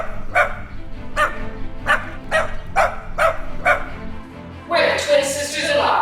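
A dog barks in a steady series of about seven sharp woofs, close and clear, followed by a burst of louder, rougher yapping.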